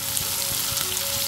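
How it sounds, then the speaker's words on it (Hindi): Onion and spices fry in a pan, giving a dense, continuous sizzle with soft crackles throughout. It is close and steady, with no talk. "सब एक साथ भून रही हूँ"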